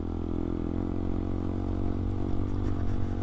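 A Honda Grom motorcycle hums along steadily while being ridden through wet construction zones, its small engine a close, continuous low drone with slight throttle changes.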